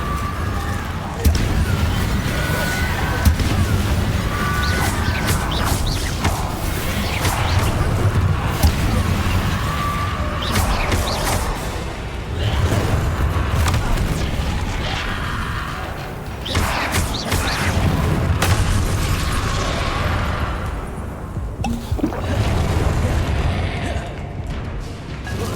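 Hogwarts Legacy combat with repeated spell blasts, booms and thuds in dense succession over continuous game noise, while a voice calls out spells throughout.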